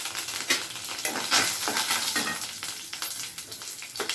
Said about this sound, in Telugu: ఆయిల్ మరిగిపోయిందండి పప్పు వేసుకుందాం పచ్చి శనగపప్పు మినప్పప్పు ఆవాలు కొంచెం జీలకర్ర ఎండుమిర్చి కరివేపాకు